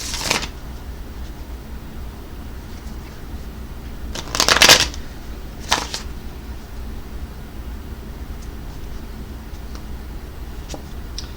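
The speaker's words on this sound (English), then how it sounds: "So let's pull some cards for Cancer." Tarot and oracle card decks are shuffled by hand in short riffling bursts with pauses between, close and fairly quiet over faint background hiss, with no talking.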